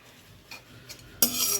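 Dry fruits roasting on low gas in a pan without ghee, with soft scrapes and clinks of a spoon stirring, quiet at first and then a brighter burst of rattling and stirring near the end.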